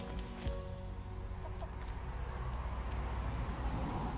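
Chickens clucking near a rural public footpath, soft irregular clucks and murmurs close by over a quiet outdoor background, with no voices.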